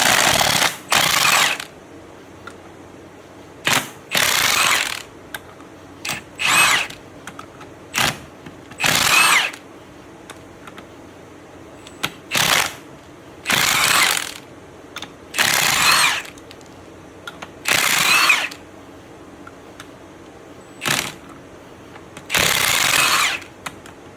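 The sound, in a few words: loosening left-hand threaded bolt, Camaro SS gear swap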